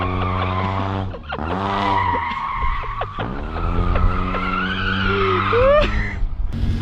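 A 1.9-litre automatic BMW Z3 drifting in winter conditions, tyres squealing loudly and continuously with engine revs rising and falling across several slides, up close and without talk.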